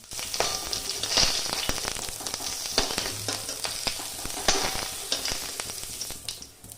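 Panch phoron spices sizzle and crackle in a little hot oil, with sharp pops and spits over a steady frying hiss, close and moderately loud without speech.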